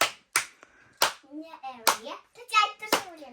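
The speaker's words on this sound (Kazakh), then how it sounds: "Біз шапалақтап тұрамыз. Просто шапалақтап тұр" A few people, including a child, clap their hands during a playful home dancing game. Sharp, separate claps land about every half-second to second, with a child's singing and speech in between.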